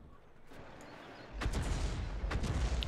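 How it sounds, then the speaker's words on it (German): A World of Tanks battle with an AMX 13 105 AM mle. 50 sends out a sudden low boom of artillery fire, followed by rumbling and several sharp distant shots over faint ambient noise. "Okay, da sind Schüsse dabei."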